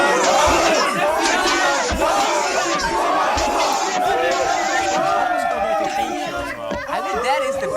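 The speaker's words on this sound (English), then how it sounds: "I think that is the best team cheer video." A crowd shouts and cheers loudly and continuously as a racing team celebrates at an awards ceremony, with a dense mass of voices yelling together throughout.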